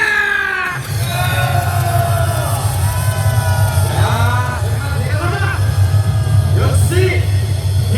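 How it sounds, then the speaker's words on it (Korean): Rally crowd at Gwanghwamun Square in Seoul, a large mass of voices roaring and shouting together in a sustained, loud wall of sound with scattered yells rising above it. "자, 이쯤에서 우리 함성 한번 들읍시다."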